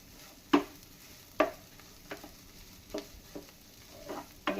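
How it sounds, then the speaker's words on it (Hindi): Homemade spice masala dry-roasting in a pan, heard as a series of distinct scraping stirs about once a second over a faint, quiet sizzle. "ये मेरा मसाला एकदम भुन गया सही से"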